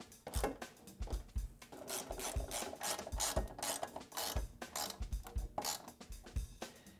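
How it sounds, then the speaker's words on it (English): Open-end wrench tightening the bolts on a snowmobile rack: close, quiet scraping and rasping metal contact with irregular clicks and taps repeating throughout, no voices. "The open end wrench goes underneath, hold it tight, lock her down"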